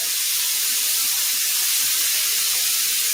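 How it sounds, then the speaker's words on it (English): Loud, steady hissing and sizzling of water steaming in a hot pan, continuous throughout with no talking. "a little bit of water. Just want to let the steam up."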